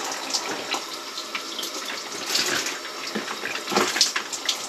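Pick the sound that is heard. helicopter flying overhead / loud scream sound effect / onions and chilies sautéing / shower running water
shower running water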